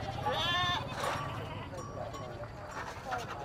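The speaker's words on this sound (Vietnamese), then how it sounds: "Đây là đa số là toàn dê cái sao ấy." Goats at a livestock market in the Vietnamese northwest bleat a few times over a busy background while someone talks.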